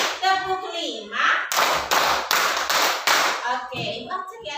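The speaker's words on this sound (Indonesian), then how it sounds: "Oke, cek ya. Tepuk 1, tepuk 3, tepuk 4, tepuk 3," A rhythmic clapping game led in a classroom coaching session: several bursts of sharp, loud hand claps in a steady run, set between stretches of spoken instruction.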